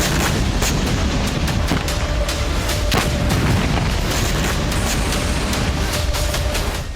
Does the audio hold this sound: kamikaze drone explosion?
yes